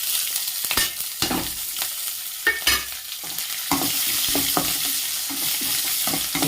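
Small onions frying in a pan for rasam, a continuous close sizzle of hot oil with repeated scraping and stirring strokes, moderately loud and without any talk.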